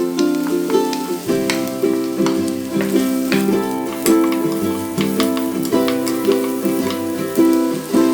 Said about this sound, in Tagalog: Add the beef and sear to maximize the flavor.